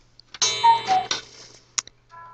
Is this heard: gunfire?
no